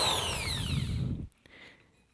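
A power drill works metal stock, a loud whining spin that winds down and cuts off after about a second, leaving a quiet tail with faint clicks.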